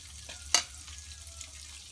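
Squid fries quietly in a pan under a low hum, with one sharp clack of a utensil stirring it and soft faint sizzling around it.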